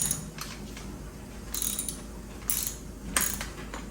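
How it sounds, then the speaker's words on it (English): A hand ratchet tightens the clamp bolt of a replacement bike seat, with several sharp clicking bursts in an uneven rhythm, close and fairly quiet. "So we got our ratchet, we just got to switch it."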